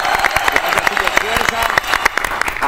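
Studio audience applause, dense rapid clapping with sharp individual claps standing out, loud and close, mixed with speech over the top.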